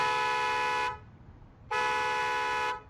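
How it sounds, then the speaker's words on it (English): A Hyundai's rear seat occupant alert sounds the car horn in two long, loud, steady blasts separated by a short pause, close by with no talking. "The first notification is the alarm on the vehicle. The horn will sound, as well as the lights will flash."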